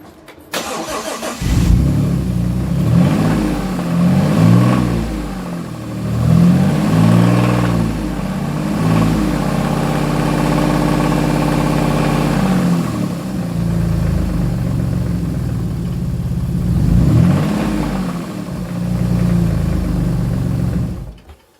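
A 2007 Dodge Nitro with an oil light and oil burning cranks and runs close by, its engine rising and falling in uneven surges and rough idle, loud and alone throughout.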